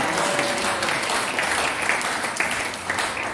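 A church congregation applauds loudly and continuously, dense clapping from many hands filling the room at close range.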